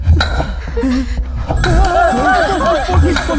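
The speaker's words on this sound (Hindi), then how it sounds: "फोन की घंटी, फोन।" A telephone bell rings loudly and close in a dramatic indoor scene, trilling in repeated warbling bursts over low rumbling background score.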